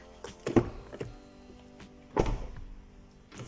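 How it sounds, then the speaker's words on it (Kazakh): A Hyundai Palisade car door opens with a faint click and later shuts with a solid, muffled thunk after sound-deadening insulation, quiet and close, with no voices. "Бірінші есіктің ашылып жабылуын тексерейік."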